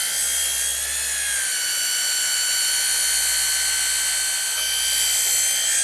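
A power polisher works the paint of a BMW E36 M3, giving a loud, continuous high-pitched whine with a steady motor hum beneath it, close up and uninterrupted throughout.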